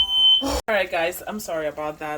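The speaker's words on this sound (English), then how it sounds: "That was our fire alarm." A kitchen smoke alarm, set off during cooking of chicken and rice, gives a single shrill electronic beep at the very start, then cuts out as a person begins talking.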